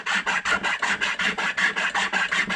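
A rasp and file work a small scrap of wood into shape in rhythmic, evenly spaced strokes, about a dozen rough scraping passes in quick succession, close and clear with no talking.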